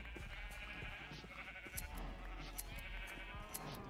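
Minecraft sheep bleating in repeated short wavering calls, several bleats overlapping at moderate volume over a faint background, with no talking.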